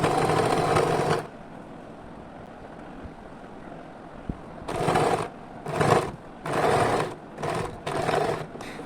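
A sewing machine stitches folded fabric to form a puff sleeve, running in a loud burst, pausing, then starting again in several short runs of mechanical whirring, close and without voices.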